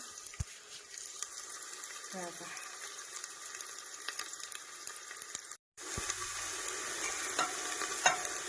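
Chopped onion with green chilli and garlic fries in a pan, a steady close sizzle with occasional scraping stirs and a brief pause midway, under a faint background voice.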